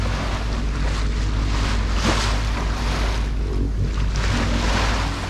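Three to four foot ocean swell rollers rock a sailboat under spinnaker, a loud continuous rush of water and wind with heavy low rumble that is steady throughout and has no voices.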